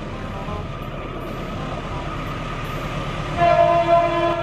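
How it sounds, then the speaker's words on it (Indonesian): A CC206 diesel locomotive rolls past with its rail cars, a steady rumble throughout, then a loud horn note sounds near the end over the ongoing train noise. "ada gerbong kereta api lokomotif lagi tipe"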